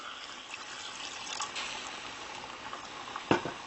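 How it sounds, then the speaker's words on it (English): Water is poured into a pot of chicken curry, making a soft, steady splashing and bubbling hiss, fairly quiet and close, with a brief sharper clink near the end. "So I'm adding 1 more cup of water"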